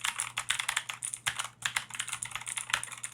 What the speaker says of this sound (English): We'll do a typing sound test for those that are curious.